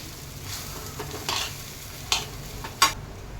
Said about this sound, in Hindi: और इसको अच्छे से धीरे धीरे चलाते हुए पकाएंगे।